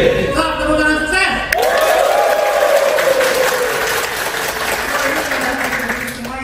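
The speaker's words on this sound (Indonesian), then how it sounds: "Stop, tepuk tangan sukses." An audience breaks into loud, sustained applause with a crowd roar, the rhythmic clapping filling the room close up while voices rise and mingle throughout.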